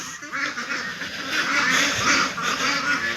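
Farm ducks raised for eggs quacking together, a dense overlapping chorus of loud nasal honks and quacks, close and continuous throughout.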